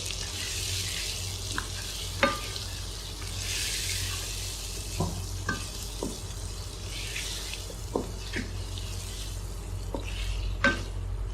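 Beef pieces fry in a karahi for Eid green beef karahi, a steady sizzle under scattered metallic clinks and scrapes of stirring, close and moderately loud with no talk.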